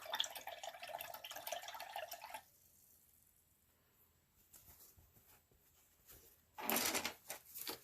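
A paintbrush is swished and rinsed in a water cup, giving a watery, splashy rustle for about two seconds, then quiet small clinks and drips before a second short burst of rinsing near the end.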